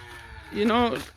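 A single short, low moo from cattle on a farm in Ghana rises and fades within about a second, fairly close against quiet outdoor background.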